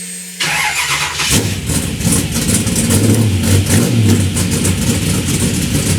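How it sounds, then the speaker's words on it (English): A car engine is started with the ignition: a brief cranking leads into a catch and a sustained rumbling idle with slight revving, loud and close, with no talk over it. "Maybe if I turn on the ignition, it'll start up."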